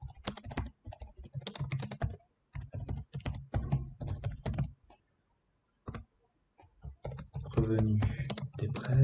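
Rapid keystrokes on a computer keyboard come in several dense bursts separated by short pauses, close and clear with a quiet room behind them.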